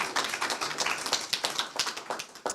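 Audience applause at a town candidates forum, a dense patter of clapping hands throughout, moderately close and steady.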